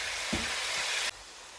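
Ginger garlic paste hits hot oil for chicken korma with a loud, steady, close-up sizzle, a soft clack of a spoon partway through, then the hiss drops sharply quieter for the final half second.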